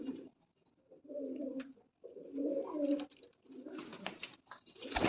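Pigeons of prized fancy breeds in a Punjabi village loft coo repeatedly in soft, throaty rolling phrases, fairly close, with a few brief flutters and chirps and no talk.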